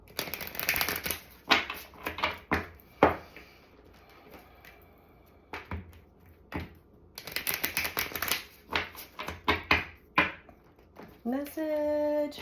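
Soul's Journey oracle cards shuffled by hand, bursts of quick crisp riffling and flapping in uneven clusters, close and fairly quiet.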